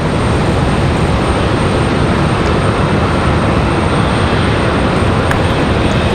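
Airliner jet engines roar at Raleigh-Durham International Airport in stormy weather as an American jet follows close behind another aircraft, a loud, dense, unbroken rush that fills the whole stretch.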